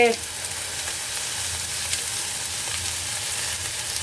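Vegetarian fried rice stir-frying with soy sauce in a pan, giving a loud, dense, continuous sizzle with occasional stirring scrapes, close up and without talk.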